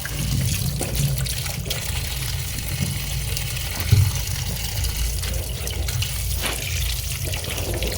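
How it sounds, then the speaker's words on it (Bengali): Running tap water fills a container to soak black and green grapes, a steady close rush with a small splash midway, no talk over it. "একটু সময় জলে ভেজানো থাক, তারপর বের করে নেব।"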